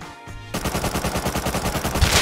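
Automatic gunfire in the video game Rust rattles in a rapid, loud, even burst of closely spaced shots after a brief quieter lead-in.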